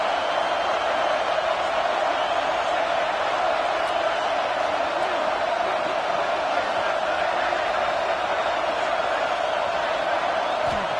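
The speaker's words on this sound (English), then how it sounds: "This crowd trying to make life miserable for this offense." Steady, dense roar of a college football stadium crowd, a continuous wash of massed voices with no breaks, loud and sustained throughout.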